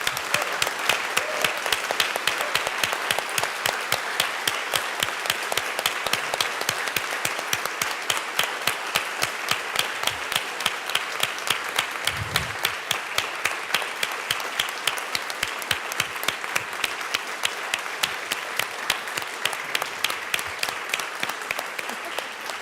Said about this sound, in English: Members, join me in a round of applause.